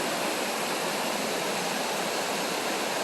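A waterfall on a paddling trip roars as a steady, dense rush of falling water, loud and continuous, with no voices over it.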